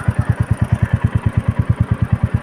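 A Royal Enfield Meteor 350 motorcycle runs at a steady idle close by, its single-cylinder engine giving an even, rapid thumping rhythm with no other sounds on top.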